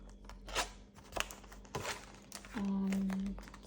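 Scissors snip through scrapbooking paper in a few short crisp cuts, followed by a longer steady rasping stretch near the end, close and fairly quiet, with faint background hum.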